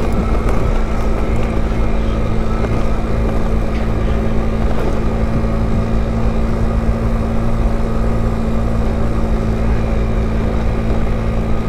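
A GY6 50cc scooter engine drones steadily and loudly throughout while riding along a dusty orchard track, with constant wind buffeting the microphone and no talking.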